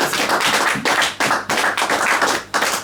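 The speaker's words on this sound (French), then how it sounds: "Applaudissons pour Jésus." A church congregation clapping in praise, broadband claps arriving in steady rhythmic bursts, loud and close, with no talk over them.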